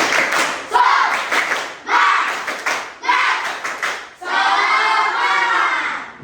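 A class of schoolchildren performs a patterned cheer clap: quick runs of claps in unison broken by loud group shouting, with a long sustained chorus of voices near the end.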